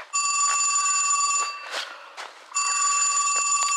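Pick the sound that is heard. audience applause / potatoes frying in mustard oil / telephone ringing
telephone ringing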